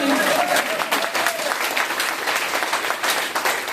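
Audience claps in a loud, continuous burst of applause, close and dense, with a faint murmur of voices mixed in throughout.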